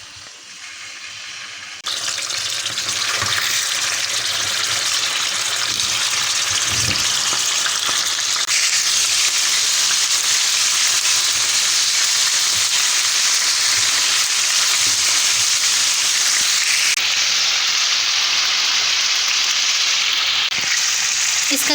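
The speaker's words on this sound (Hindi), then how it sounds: "यहाँ पे सबसे पहले एक पैन में मैंने अबाउट 6 to 7 टेबलस्पून ऑयल लिया। इसमें चिकन ऐड कर दूँगी।" Chicken pieces frying in about six to seven tablespoons of hot oil in a pan, a loud steady sizzle and crackle that jumps up after a quieter start and keeps hissing throughout.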